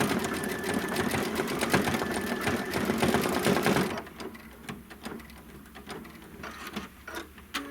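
A steady, rapid mechanical stitching chatter from an embroidery machine sewing through thick layers, loud for about four seconds, then quieter intermittent whirring and clicks.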